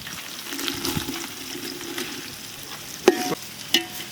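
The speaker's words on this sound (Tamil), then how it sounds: "இந்த எண்ணெயில் வந்து நல்லா வதங்கணும்" Sliced onions fry in hot oil for a village-style country chicken curry, a soft steady sizzle near at hand, broken by two sharp clinks of a utensil against the pan toward the end.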